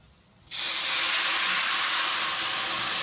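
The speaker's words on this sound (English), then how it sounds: "Okay, so I'm going to add the water" Water pours steadily into a cooking pot, starting abruptly after a brief quiet moment and continuing as a loud, even rushing hiss to the end.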